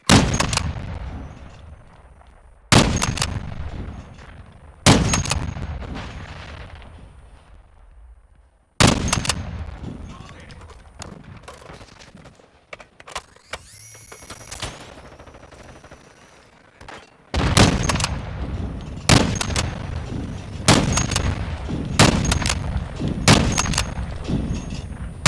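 Gunfire in the Call of Duty Modern Warfare 2 beta: loud, close bursts of automatic fire and single sharp shots, with several heavy blasts and stretches of rattling fire, no speech.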